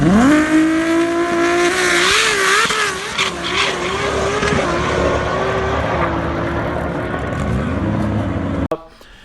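A seven-second drag race car fitted with Cat Cams accelerates hard, its loud engine note climbing and wavering through gear changes over several seconds before cutting off abruptly near the end.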